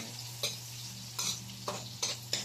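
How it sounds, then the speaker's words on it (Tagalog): Onions stirred in a frying pan with a soft sizzle underneath, several distinct scraping strokes at an uneven pace, close and fairly quiet, with no talking. "ilalagay ko na ang sibuyas. Kapag halu-haluin lang natin, halo lang."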